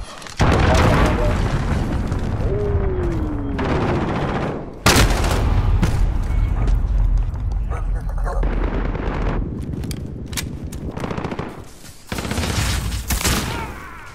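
A cruise missile strike in Call of Duty blasts through a match with loud, dense booming explosions and rapid gunfire, heavy low rumble filling most of the stretch, with a player talking over parts of it.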